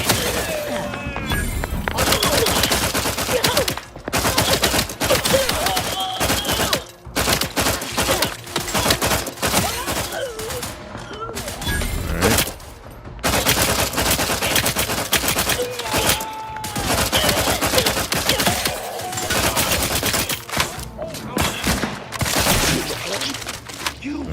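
Dense gunfire and rapid bursts from The Outer Worlds 2, with automatic fire and heavy thuds continuing almost without pause and only brief gaps, loud and close, while voices talk over the shooting.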